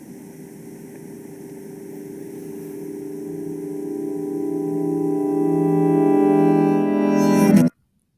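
An audio track played backwards after Audacity's reverse effect: a steady sustained tone with engine-like harmonics that swells gradually over about seven seconds and then cuts off abruptly, with no talk.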